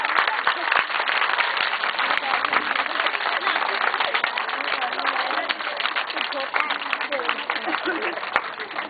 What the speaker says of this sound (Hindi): तालियां मारो